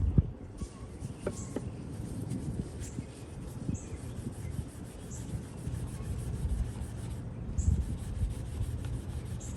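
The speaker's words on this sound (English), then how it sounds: "Let's take a rag and apply some fine scratch remover, because there are a lot of scratches on this thing." A rag with fine scratch remover polishes the scratched plastic housing of a 1970s Craftsman drill, producing soft, quiet, irregular rubbing strokes close by.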